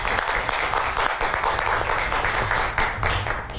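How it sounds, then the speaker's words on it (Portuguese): Studio audience applause for SAMU emergency medical workers, a steady dense wash of clapping filling the whole stretch at close, loud level. "um aplauso agora para os homens e mulheres do SAMU"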